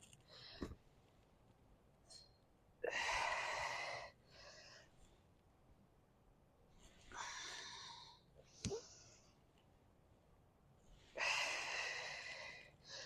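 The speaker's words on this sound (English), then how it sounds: "I'm going to exhale as I rotate" Audible exhales and inhales during a T-spine rotation mobility exercise on the ground, several breathy bursts spaced a few seconds apart, close and fairly soft with quiet gaps and a couple of sharp clicks between.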